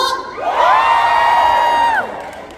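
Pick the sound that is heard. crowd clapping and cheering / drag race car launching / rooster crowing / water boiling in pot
crowd clapping and cheering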